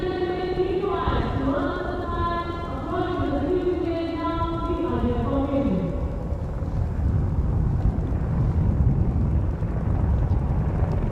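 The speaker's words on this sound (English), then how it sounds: "Apache helicopter victory formation में कर्तव्य पथ के ऊपर पहुंचते हुए" Apache helicopters fly overhead in victory formation above Kartavya Path at a Republic Day parade, a loud steady rotor roar and rumble with a wavering tonal whine that fades into broad wind-like noise, under a commentator's voice.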